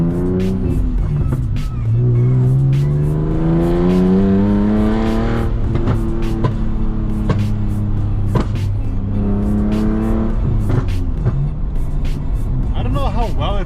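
A manual car with an extremely bad exhaust leak revs up and down repeatedly, with sharp ticking and popping sounds from the exhaust over the rough engine drone.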